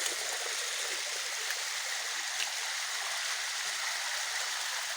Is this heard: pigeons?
no